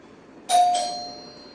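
A two-note doorbell chime, ding-dong, rings once clearly and then fades out slowly over quiet background.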